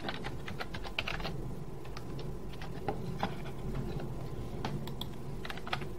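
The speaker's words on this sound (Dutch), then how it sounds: "was het slechtste moment om even te gaan typen in een podcast" Someone types on a computer keyboard indoors, producing a steady patter of light, close key clicks with irregular rhythm and occasional louder taps throughout, over a faint background hiss and no speech.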